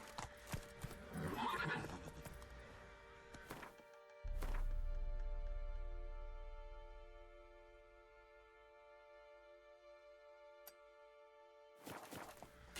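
Roach, the horse in The Witcher 3, gallops with quick clip-clop hoofbeats, gives a loud whinny and snort up close, then a low rumbling fades out before more hooves return; a voice mutters briefly.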